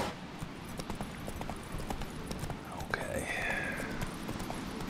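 Horse hooves clip-clop in a steady galloping rhythm in The Witcher 3, with a voice speaking over the continuous hoofbeats.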